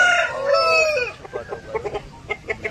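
An Aseel black fighter rooster crows loudly up close, its long call trailing off into a series of short clucks.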